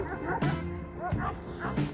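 A Kangal dog puppy gives three short, high yips a little apart, close by, over a steady background hum on a Kangal dog breeding farm.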